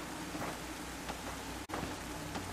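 Steady hiss of rain falling in the video game Devour, soft and continuous, with faint scattered drops and no voices.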